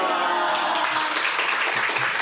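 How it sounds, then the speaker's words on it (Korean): Congregation applause welcoming a visiting missionary speaker at a Sunday worship service in a church, a dense burst of clapping lasting about two seconds. "한번 환영하면서 박수로 환영하겠습니다"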